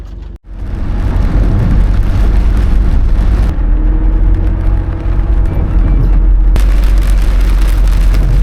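Heavy rain pours onto a delivery car during an orange rainfall warning, a loud, constant drumming hiss on the roof and windows that holds steady, with a brief dip near the start and no voices.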